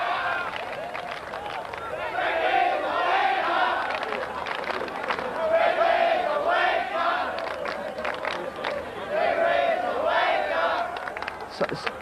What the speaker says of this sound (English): The crowd coming to life as Queensland now have a chance to level the scores